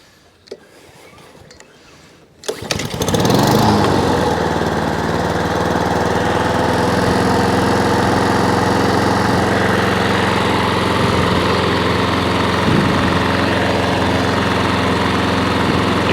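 A petrol lawnmower engine on a heavily customised old mower catches after a few quiet seconds and then idles loudly and steadily, a constant throbbing drone that holds up close for the rest of the clip.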